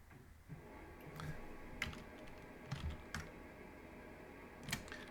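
Keys tapped on a computer keyboard in scattered bursts of clicks, quiet and close, with no voices.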